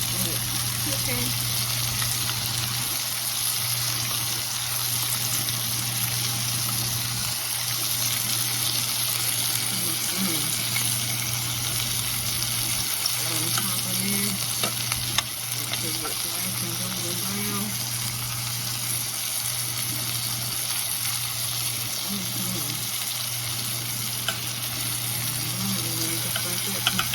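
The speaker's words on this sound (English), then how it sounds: "I like to take that butter and just put it on top of it like that. Let it cooking." Chicken breast sautéing in butter in a pan gives a steady, close sizzle that runs evenly throughout, with faint clinks and light kitchen noise beneath and no talking.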